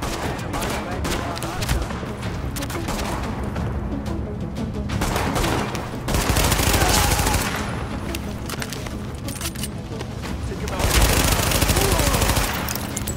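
Rapid bursts of automatic gunfire in the video game Tom Clancy's The Division, dense volleys swelling louder in two waves with speech faintly mixed in.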